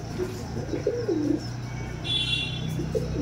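Pigeons coo softly nearby, a few low rolling calls spaced apart against a quiet outdoor background.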